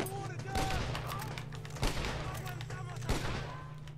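Springfield rifle shots ring out in Red Dead Redemption, two sharp reports spaced apart over steady game music and ambience, moderately loud.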